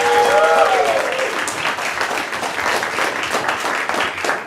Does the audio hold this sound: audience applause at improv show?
yes